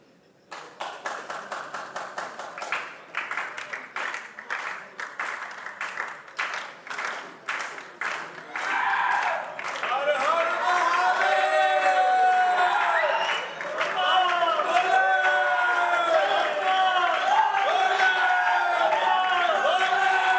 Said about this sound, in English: It's surely not easy with all the cheering coming from the stands.